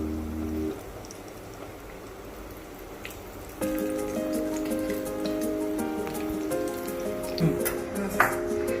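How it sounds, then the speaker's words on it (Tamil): Cashew nuts frying in hot ghee for halwa, a steady crackling sizzle with bubbling pops that grows louder and busier after a few seconds when more nuts go in, heard close with no talking. "நெய் வந்து காஞ்சிச்சு. இப்போ வந்து நம்ம முந்திரி பருப்பு இதில் ஆட் பண்ணிக்கலாம்."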